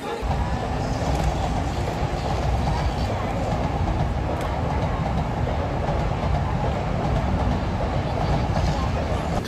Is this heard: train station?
yes